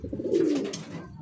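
A pigeon coos once in a small loft, a low, throaty rolling call heard close up and fairly loud, with no voices over it.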